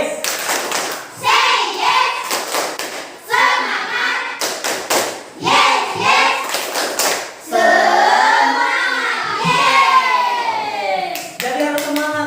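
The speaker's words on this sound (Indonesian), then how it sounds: "Oke, tepuk say yes." A classroom of children claps out a 'tepuk say yes' chant, bursts of rhythmic hand claps alternating with loud group chanting, close and lively.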